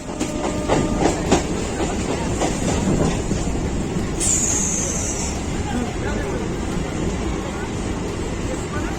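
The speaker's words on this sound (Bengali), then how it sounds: "আমি শিয়ালদা থেকে ট্রেনে উঠে পড়লাম" A suburban train rumbles along with rhythmic clickety-clack of wheels, a brief high squeal, and a low murmur of passengers' voices.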